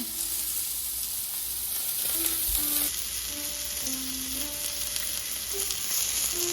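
Ribeye steak with garden rosemary fries in a hot pan, a continuous close sizzle and crackle that holds steady throughout without any talking.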